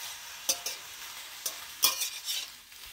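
Ghatkol paste is stirred in a hot pan, with a quiet sizzle punctuated by several distinct spoon scrapes and taps against the metal.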